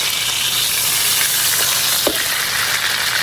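A carrot bun burger patty sizzles and fries steadily in a hot pan, a dense continuous crackle with a couple of faint utensil taps, no talking.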